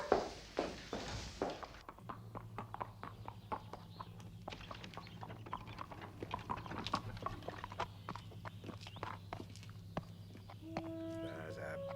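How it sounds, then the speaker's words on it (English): Farm horses' hooves clip-clop in an irregular, moderately close walking rhythm, with a low steady hum underneath and people talking over the footfalls. "They're good farm horses"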